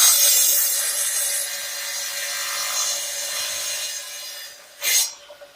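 Trim piece for a wall niche being cut by hand, a close, bright rasping saw stroke that fades over several seconds, followed by one short sharp stroke near the end.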